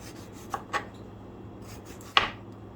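A knife slices cucumbers thinly on a board, giving a few soft, separate cuts spaced apart, with one sharper chop near the end over a quiet background.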